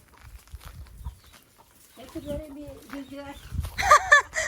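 Small chicks kept on a home balcony let out a few high, thin peeps near the end, after a stretch of low rustling and a voice speaking nearby.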